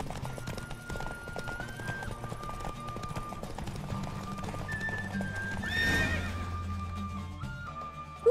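Racehorses gallop in a Witcher 3 race, with steady clip-clop hoofbeats and whinnies running throughout, a busy surge of hooves and snorting swelling near the end, and game music playing underneath.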